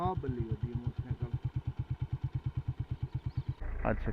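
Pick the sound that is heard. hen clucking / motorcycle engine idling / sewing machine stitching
motorcycle engine idling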